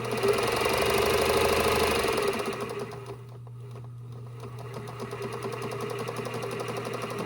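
Tan Singer 221J Featherweight sewing machine run by hand with the foot down after a belt and motor pulley replacement, a fast, even mechanical whirring and clatter that slows and drops in level partway through, then continues as a softer hum, with no talk.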